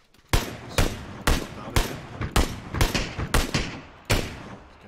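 Gunfire in PUBG on a Miramar ranked squad match: a series of about nine sharp, evenly spaced shots cracking out at moderate distance with short echoing tails, no talking over them.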